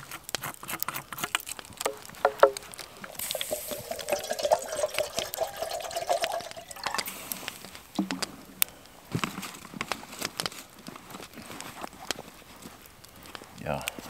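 Water splashes and patters in uneven bursts as it is poured for coffee in an autumn forest, with a voice speaking at times and scattered clicks and handling noises.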